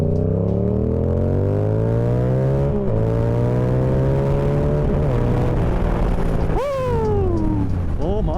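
A Yamaha R7 motorcycle with an aftermarket ECU tune accelerates smoothly, its engine note climbing in steady harmonic sweeps through several gear changes, loud and close throughout, rising sharply again near the end.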